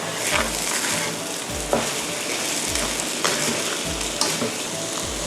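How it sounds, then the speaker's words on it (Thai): Fried rice with salted fish sizzling in a hot pan, a spatula scraping and tossing it in a steady rhythm of repeated strokes over constant close frying crackle. "ตอนนี้ก็ผัดให้ทับกันค่ะ ใช้ตะหลิวนะคะบี้ข้าวที่เป็นเม็ดๆนะคะ"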